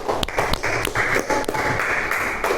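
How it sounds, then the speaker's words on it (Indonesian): A small classroom group claps for a student, with uneven, sparse claps and taps close by, mixed with faint background noise. "Beri tepuk tangan untuk Mbak Valerina."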